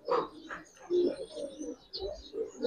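Giribaz pigeons coo nearby in a series of soft, throaty rolling calls, several short bursts overlapping in an uneven rhythm.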